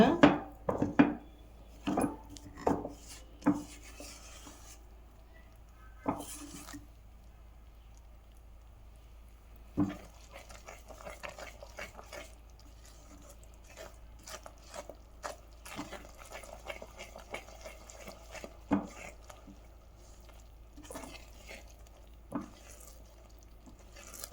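A Mysore pak mixture being stirred in a pan over low heat, a spoon knocking and scraping in sharp irregular taps, loud at first then sparser and softer, with no talk.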